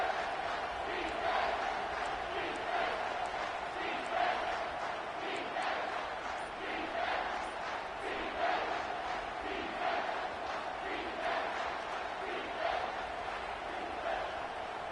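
Loud stadium crowd at a college football game roars and chants steadily throughout, a dense continuous wall of voices with rhythmic surges and no clear speech above it.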